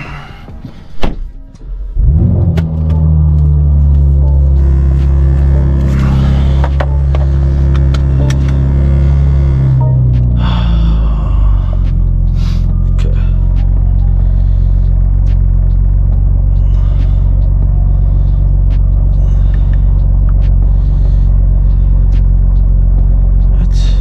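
A tuned 2024 G80 BMW M3 on a late-night drive: a door thunk at the start, then a loud, deep, steady engine rumble that droning on continuously inside the cabin.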